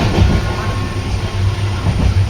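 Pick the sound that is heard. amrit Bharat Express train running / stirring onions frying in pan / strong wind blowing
amrit Bharat Express train running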